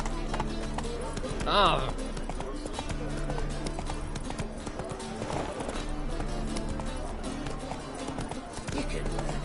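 Galloping horse hooves from The Witcher 3 video game beat fast and continuously under game music and ambience, with a short vocal exclamation near the start.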